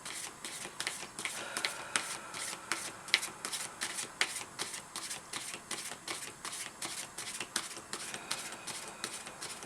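A deck of oracle cards is shuffled continuously by hand, giving a rapid run of crisp riffling flicks close to the mic, quiet and alone.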